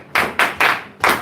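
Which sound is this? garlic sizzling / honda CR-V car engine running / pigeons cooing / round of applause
round of applause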